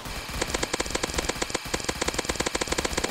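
A gatling laser gun in the Roblox game Zombie Attack firing a fast, steady stream of sharp electronic shots in a rapid, even rhythm, loud and with no talk over it.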